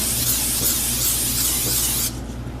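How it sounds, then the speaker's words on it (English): A continuous, close aerosol spray hisses steadily for about two seconds, then cuts off abruptly, leaving faint room noise. "just regular cooking spray, nothing special"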